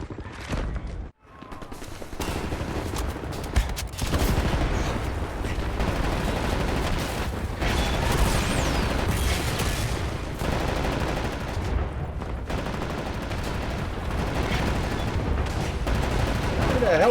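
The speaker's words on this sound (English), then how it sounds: "Right, lads, you ready to lay down suppressor fire?" Suppressing machine gun fire in the Wolfenstein: The New Order video game, heavy and near, going on without a break for many seconds amid the din of battle. Voices can be heard among the shots.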